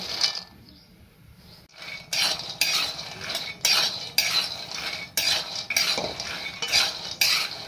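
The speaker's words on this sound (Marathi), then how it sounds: "कढई तापलेली आहे, त्याच्यामध्ये आता आपण हे शेंगदाणे टाकून घेऊ आणि भाजून घेऊ" Peanuts are dry-roasted and stirred in a hot kadhai, the spoon scraping and clinking against the metal in a steady repeated rhythm, close and fairly loud with a light rattle of nuts.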